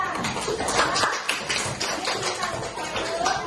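Schoolchildren in a classroom clap their hands together, a dense, continuous patter of many close, overlapping claps with no pause.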